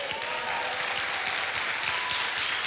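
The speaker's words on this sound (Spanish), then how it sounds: "Un aplauso para el Señor." A large church congregation applauding steadily, a dense continuous wash of clapping that stays loud throughout.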